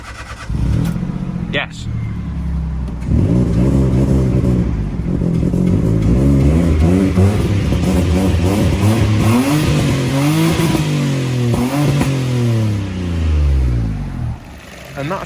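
An engine treated with Ametech Engine Restore cranks over, catches and runs loud and close, its revs rising and falling in waves, with a brief word spoken over it.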